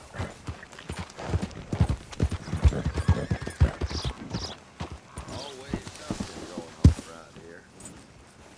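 Horse hooves clip-clop steadily in Red Dead Redemption 2, with a whinny and snorts mixed in as someone talks over them at close range.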